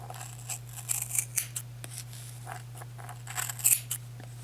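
Scissors cutting yarn close up, a series of crisp cuts in small bursts over a steady low hum, with no talking.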